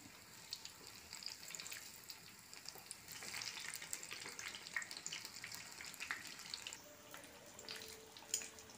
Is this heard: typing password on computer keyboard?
no